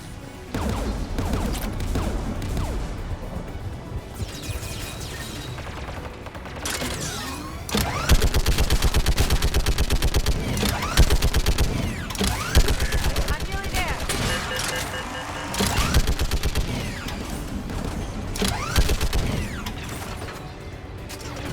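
Gunfire and mechanical clatter during a Mass Effect 3 combat mission as a squadmate takes out an enemy gun emplacement, with dense bursts and impacts repeating over a loud, busy game soundscape.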